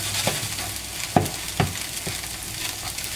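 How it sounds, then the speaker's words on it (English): Shredded Kaiserschmarrn pancake batter sizzles in a pan while being stirred, a soft constant frying hiss broken by a few distinct scrapes and knocks of the utensil against the pan. "we have to keep stirring it a little bit now, obviously"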